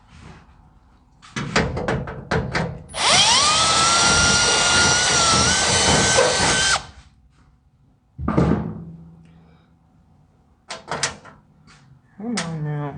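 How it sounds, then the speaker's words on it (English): A drill whines steadily for about four seconds during assembly of a Vevor 90-gallon sandblasting cabinet, with clanks and knocks of parts before and after and a person talking in between. "They're not just drilling out."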